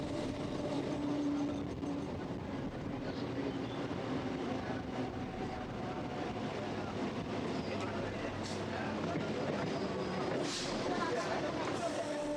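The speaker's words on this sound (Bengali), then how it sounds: "গাংপুর থেকে কিন্তু ঝড়ের মতো স্পিডে কিন্তু ট্রেন এগিয়ে চলেছে দেখতে পাচ্ছেন" A local train on the Howrah–Barddhaman chord line runs at high speed, heard from on board as a continuous loud rumble and rattle with a voice talking over it.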